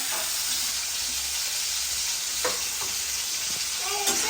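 Radish vegetable frying in hot oil makes a loud, continuous hissing sizzle close by, steady throughout with a few faint clicks toward the end.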